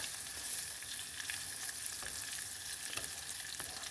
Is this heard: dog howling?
no